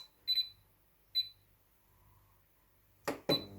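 An air fryer's control panel gives short electronic beeps while the time is set: two quick chirps, a single beep, then a louder pair near the end with some handling clatter, all close and otherwise quiet.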